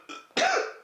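A single rough, congested cough from a man recovering from the flu, close and fairly loud, preceded by a softer throat noise, with no talking around it.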